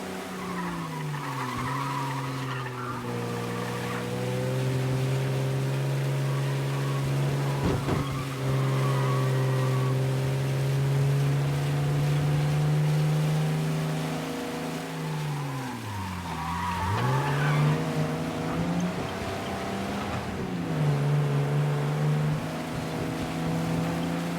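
Car driving through heavy rain in Mafia: Definitive Edition, with a steady engine drone that rises and dips as it revs, tire skidding and wet road spray, loud and continuous for the whole stretch.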